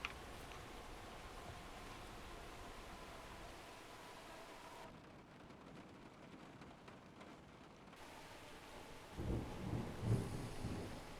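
Steady rain hiss from a train simulator weather pack, with a brief quieter gap midway before the downpour returns and low thunder rumbles swell near the end; no talking.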